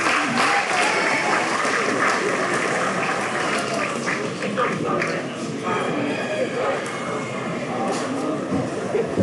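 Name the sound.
applause for three kids at a swine show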